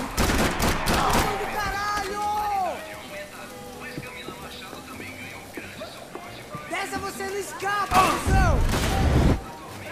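Gunfire in the video game Max Payne 3, short bursts of shots at the start and again near the end with echoing tails and clattering effects, heard under someone talking over the game.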